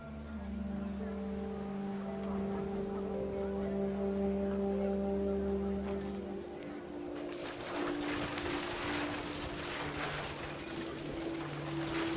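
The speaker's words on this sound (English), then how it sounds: "The rain came down in buckets then" Heavy rain pours down in the video game What Remains of Edith Finch, a steady wash of rainfall under low droning tones, swelling into denser, louder downpour in the second half.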